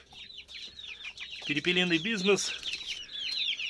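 Chickens and chicks on a poultry farm cluck and peep repeatedly, with a loud rooster-like call in the middle, while someone talks over the birds nearby.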